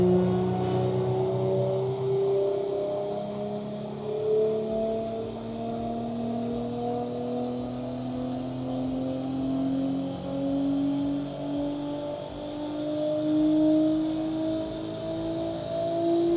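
An Audi RS5 B9 fitted with hybrid turbos pulls hard in 5th gear, its engine note rising steadily in pitch under load for the whole stretch, loud and close with no talk over it.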